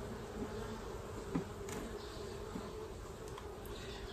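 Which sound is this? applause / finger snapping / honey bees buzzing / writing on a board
honey bees buzzing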